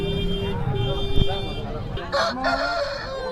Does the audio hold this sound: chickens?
yes